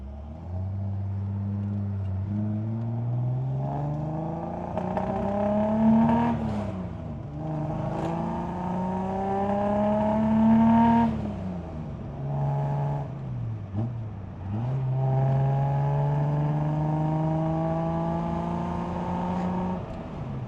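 A Datsun 240Z engine revs hard while driving, climbing and dropping in pitch through several gear pulls with strong harmonics, loud and close with no talking.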